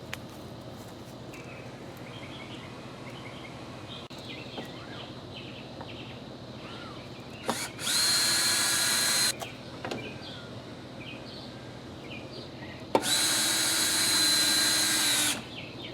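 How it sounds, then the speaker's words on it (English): Two loud whirring bursts from a power drill driving screws into a 2x4 and a main beam outdoors, each lasting a second or two, with faint birdsong and background noise in between. "I'm going to screw this into the main beam"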